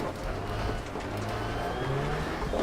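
A rally car engine drones steadily at close range in the DiRT Rally video game, shifting pitch through gear changes, with faint rough grinding from worn brakes underneath.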